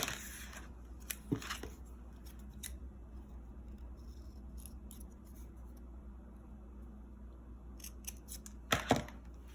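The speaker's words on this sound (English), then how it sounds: "draw a V from this corner to this corner and cut it out" Scissors snip through card paper to cut out a V shape, a few faint crisp cuts at the start and a louder pair near the end over a quiet steady hum.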